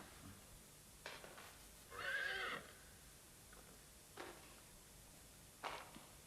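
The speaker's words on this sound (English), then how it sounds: "Summers, there is a horse on the landing." A horse whinnies loudly indoors on a house landing, one clear neigh in the middle, with a few faint scattered knocks and shuffles before and after it in an otherwise quiet room.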